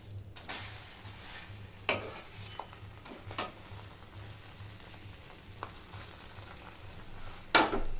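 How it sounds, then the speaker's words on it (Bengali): Homemade batter bread roll sizzling steadily in a pan, with sharp scraping clicks of a spatula as it is flipped and pressed, a few distinct clanks standing out. "এবার এটাকে আমি ওলট পালট করে সেঁকে নেব"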